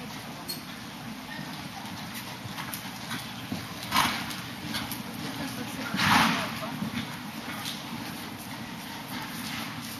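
Horses lope around a show arena, their hoofbeats a soft rhythmic thud under steady ambient noise, with a few louder swells as riders pass nearby.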